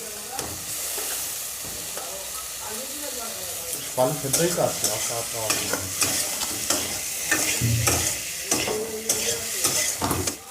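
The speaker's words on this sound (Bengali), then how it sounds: "এবারে মশলাটা ভাজা হয়ে গেছে আর আমি ভেজে রাখা ভেন্ডিগুলো দিয়ে দিচ্ছি।" Fried okra tipped into a pan of frying spices with salt and turmeric, giving a steady close sizzle broken by scraping stirs and clattering strokes that grow busier after the first few seconds.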